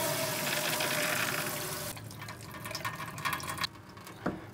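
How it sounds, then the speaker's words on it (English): Pressurised water gushing from a Yanmar marine engine's cooling system as the pressure is released, a loud rushing flow that cuts off abruptly, followed by quieter trickling, drips and a brief clunk nearby. "I should let the pressure out of the system first"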